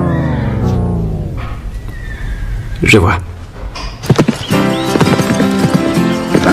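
A horse neighs and its hooves clip-clop on the ground, loud and close, with people talking over and around the sounds; a brief rising whinny stands out midway.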